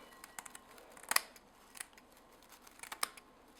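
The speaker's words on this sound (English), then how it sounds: "I'm going to cut it with scissors into this bowl" Several crisp, sharp scissor snips cutting dried yarrow into a bowl, quiet and close, spaced irregularly with soft rustling between them.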